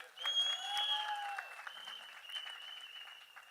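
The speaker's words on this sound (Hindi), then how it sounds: "तालियां बजाइए अपने भारत के लिए।" An audience at a live event breaks into applause, a quiet, steady patter of clapping that swells early and then tapers slightly. Some faint tonal ringing runs over the clapping.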